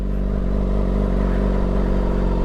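Motorcycle pulling away as the clutch is fully released and the rider lifts his feet: a loud, steady, close engine drone with a low, even pulsing throughout.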